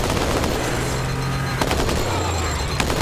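Loud, dense gunfire from the shooter game Halo 2: Anniversary, with rapid automatic bursts and sharp shots in a continuous barrage and a low droning tone underneath.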